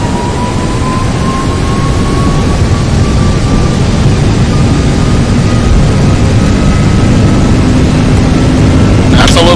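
Airbus A330 jet engines spooling to takeoff thrust in a flight simulator, a loud, steady roar with a faint rising whine held for several seconds, with no talk over it.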